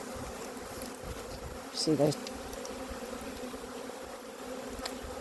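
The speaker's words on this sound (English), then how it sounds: "These are the bees that we've recently set up this apiary." Honey bees hum steadily around a hive at a newly set up apiary, a continuous low drone with a brief voice speaking midway.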